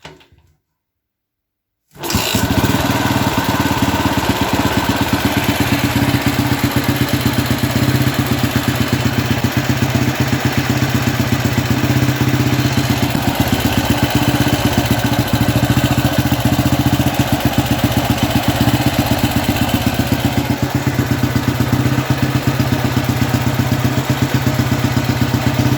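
An old motorcycle engine, cold and fitted with a prototype electronic ignition, starts after a brief silence and runs at a high idle, a loud, steady, close clatter that holds for over twenty seconds.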